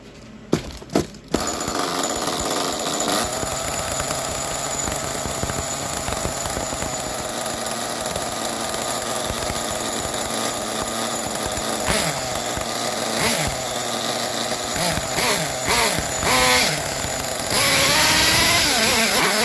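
A Red Cat nitro RC car's small engine, running with its idle set low, screams continuously at close range for nearly twenty seconds after a few sharp knocks, with a buzzy, rising and falling rev.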